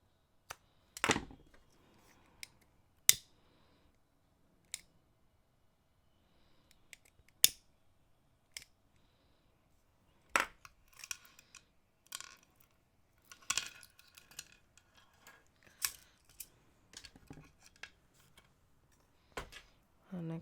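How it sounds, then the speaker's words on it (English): Scissors snip off the cord ends of a knotted bead necklace: sparse, sharp, close clicks and snips spaced irregularly over a quiet background, with faint handling noises between. "and then snip those off."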